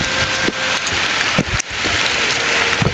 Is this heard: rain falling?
yes